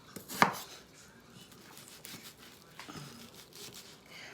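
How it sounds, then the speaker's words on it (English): Onions chopped with a small knife during steak-and-rice prep, heard as one sharp knock followed by a few faint, scattered cuts in a quiet kitchen. "I like chopping my onions with a smaller knife."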